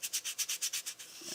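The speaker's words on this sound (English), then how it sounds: "use my sanding bar here" A sanding bar rubs back and forth across foam on a model jet, about nine quick, even strokes in a soft, close, rhythmic scrape, then it stops.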